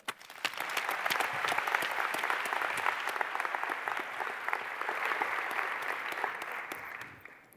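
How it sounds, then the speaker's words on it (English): A large audience breaks into sustained, dense applause for a speaker, the clapping rising quickly, staying full and lively for several seconds, then fading out abruptly at the end. "Please give a huge round of applause for Anqelique Pouponneau."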